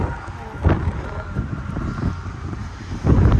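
Outdoor wind in Montana buffets the microphone in a rough, rumbling roar with gusty surges, loud and close throughout the short stretch.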